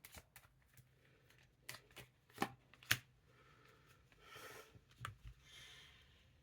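Playing cards being laid out one by one for a card reading, giving quiet, scattered snaps and flicks close by, with faint breathing in between.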